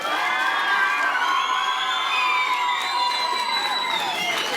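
School audience at a science outreach program cheering loudly, with children's shouts and whoops over scattered clapping in a continuous, energetic crowd roar.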